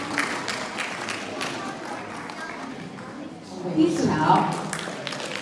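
An audience applauds award winners at a Chinese heritage school graduation ceremony. The clapping is a steady patter that swells briefly, with a speaker's voice talking over it.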